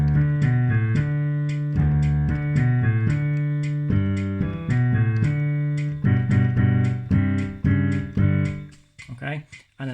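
Left-hand piano intro of a song played as a steady repeating pattern of low notes and chords, close and clear, ending with a short bit of talk.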